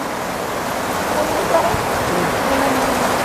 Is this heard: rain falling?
yes